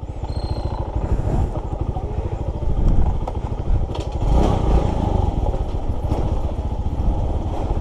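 A motorcycle engine runs continuously on a slippery road, a close, rough, pulsing drone with clattering and scraping bumps as the bike bounces along, alone without talk.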